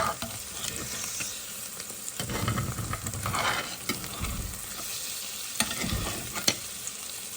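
Four eggs fry in a skillet and get turned with a spatula, making a steady sizzle broken by scraping and clattering turns and a few sharp taps near the end.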